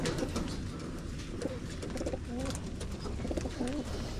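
Pigeons cooing in a wooden loft aviary, soft repeated coos at moderate distance, several overlapping calls over a steady background hum, with a little faint talk.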